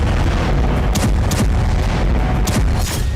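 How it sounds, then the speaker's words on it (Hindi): Missile explosions go off in Tehran as heavy, continuous booming rumble, with a few sharper bursts cutting through the dense, loud roar. "ईरान की राजधानी तेहरान में रह रह कर धमाके हुए।"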